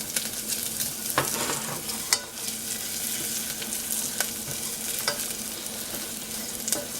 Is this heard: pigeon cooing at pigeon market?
no